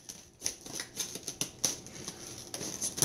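Scissors cutting through the bottom of plastic packaging with a quick run of sharp, snipping clicks and crinkles, close and fairly quiet, with no talk.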